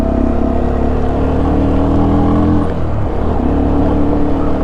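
Sonlink SL 150KD motorcycle riding on a gravel road, a loud, steady engine drone with low rumble and wind noise, the engine note easing briefly before resuming.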